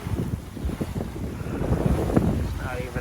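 A sailboat moving at night on the Pacific off Mexico, with gusting wind buffeting the microphone and waves sloshing against the hull in a steady, rough wash.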